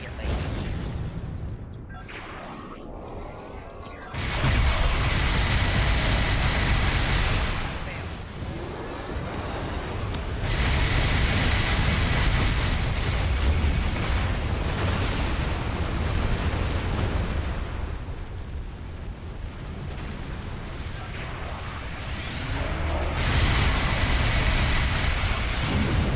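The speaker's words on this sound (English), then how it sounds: "Artillery incoming. Exit area immediately." Artillery shells land in Star Trek Online, heavy booming explosions and rumbling blasts that swell in long waves, loud and dense, with occasional voice warnings mixed in.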